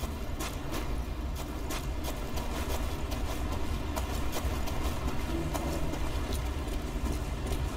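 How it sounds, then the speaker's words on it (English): In the video game Dead Island: Riptide, a ferry engine runs at a loud, steady idle, a constant low rumble and drone with a faint rhythmic ticking throughout, with no voices. "That ferry engine is fucking loud."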